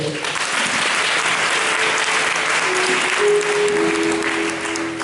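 A church congregation applauding at a Sunday service, a dense sustained wave of clapping that stays loud and even for several seconds, with a faint voice and low tones underneath.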